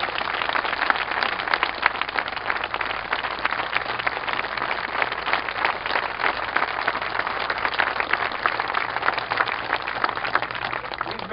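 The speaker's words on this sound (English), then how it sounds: "could we recognize you with a round of applause and thank you for what you've done" A rally crowd in Dixon, Illinois gives veterans a round of applause, a dense and even patter of clapping that holds steady for the whole stretch.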